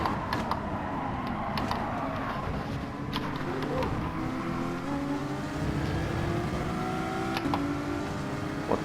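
Race car engines roar continuously in Gran Turismo Sport, a steady drone of several cars running together with shifting engine pitch, loud and unbroken with no talking.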